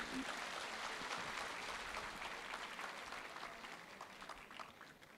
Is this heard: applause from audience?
yes